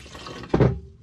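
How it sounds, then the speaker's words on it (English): Water poured into a large darkroom graduate ahead of mixing Pyro 510 developer, a soft trickle swelling into a brief, louder splash near the end, then fading out; no voices. "before I add the developer to the water, I'll just put a little bit of water into the"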